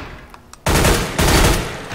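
Loud automatic gunfire in Counter-Strike: Global Offensive during a shooting practice round, two long sustained bursts of rapid shots after a couple of quiet clicks, close and dominant.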